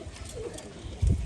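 Pigeons coo near at hand in low repeated burrs, the loudest call coming near the end, over a soft background murmur.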